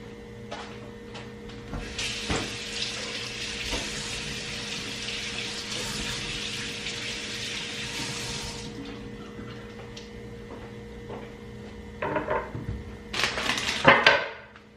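Vegetables are washed under running tap water at a kitchen sink, a steady rush of water for several seconds, then quieter splashing and a few sharp clinks and rustles near the end.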